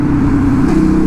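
A 1290 motorcycle engine runs loud and close with a deep, steady throbbing rumble and no pauses over the brief moment.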